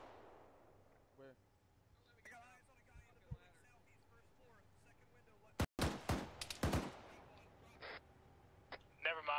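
Gunfire during a military urban combat (MOUT) exercise: a close, loud burst of several sharp shots clustered midway, with a few fainter cracks afterward, over background voices and faint chatter.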